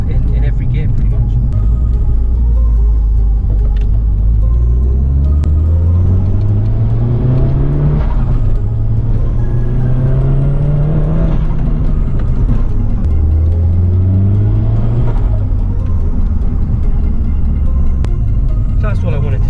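A 400bhp Nissan Silvia S15 runs loud and close, its engine note rising and falling through several rev sweeps over a constant rumble while a person talks over it.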